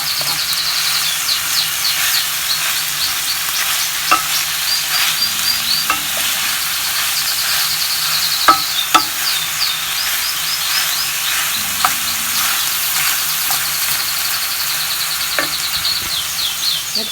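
Celery and green onions sizzle steadily in a hot pan, a close, even frying hiss with occasional pops and stirring clicks and faint chirps in the background.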